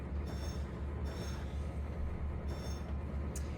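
BNSF freight train hauling a long line of boxcars in Trainz Simulator 3, rolling steadily with a deep continuous rumble and periodic hiss and squeal bursts, loud and alone.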